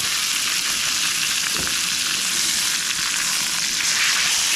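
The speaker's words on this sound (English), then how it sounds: "It's got a good sear on them." Meat searing in a pan inside a camper van kitchen, a dense, even sizzle that holds steady and fairly loud with no talking over it.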